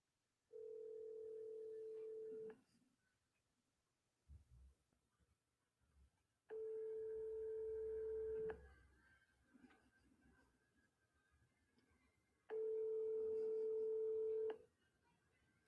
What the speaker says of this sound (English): Now, listen to where this phone number goes to when you call this child care center.